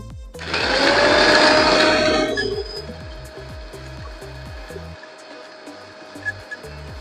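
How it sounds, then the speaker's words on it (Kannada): A mixer grinder whirs loudly for about two seconds, powdering whole biryani spices in its jar, then winds down. Background music plays and a voice speaks over it. "ಜಾರ್ಗೆ ಹಾಕಿರೋದನ್ನ ಮಿಕ್ಸಿ ಇಟ್ಟು ಇವಾಗ ನಾನು ಅದನ್ನು ಪೌಡ್ರ್ ಮಾಡ್ಕೋಬೇಕು"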